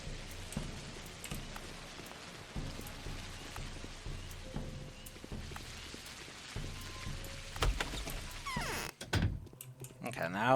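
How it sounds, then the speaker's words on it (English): Rain pours steadily in the video game Pathologic, a continuous wash of drops with occasional dull thumps and brief clicks over it, and the rain thins out near the end. "It's raining, it's pouring."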